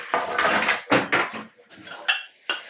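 Small ceramic bowls clink and clatter as they are handled and stacked inside a kitchen cupboard, several close, sharp knocks and rattles in quick succession.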